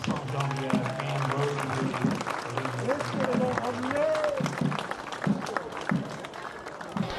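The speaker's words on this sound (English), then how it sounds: "One more round of applause for the least Genevieve" An outdoor crowd at the Jour de Fete opening ceremony in Ste. Genevieve, Missouri, claps steadily, the applause mixed with voices and a low hum of background activity throughout.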